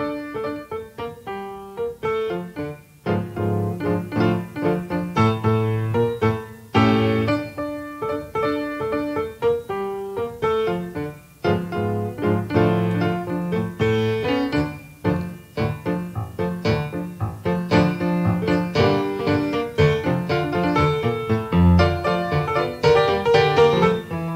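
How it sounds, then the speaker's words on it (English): Ragtime piano piece, William Krell's Mississippi Rag from 1897, played solo on piano with a steady bouncing rhythm and full chords, clear and continuous throughout. "The Mississippi Rag by William Krell, published in 1897."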